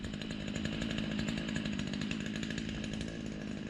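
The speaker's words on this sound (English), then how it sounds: "I only have my small chainsaw." A small chainsaw runs continuously at high revs while clearing land around a big tree, a loud, steady, close-up buzzing engine snarl with no pauses.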